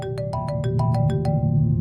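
A phone rings with a bright repeating electronic ringtone, quick evenly pulsed tones cycling without pause, loud and close with nothing else over it.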